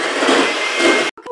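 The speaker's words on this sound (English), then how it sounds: "Now I'm going to beat this on medium for 1 to 2 minutes, and then I'll gradually go up to high until stiff peaks form." An electric mixer beats whipping cream for a stabilized whipped cream, giving a loud, steady whirring drone that runs unbroken for about a second before cutting off abruptly, followed by a brief faint clatter.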